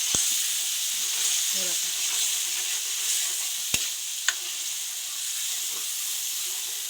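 Food frying in a pan: a steady, close hiss of sizzling oil runs throughout, with a few sharp clicks and taps of a utensil, and a brief spoken remark over it.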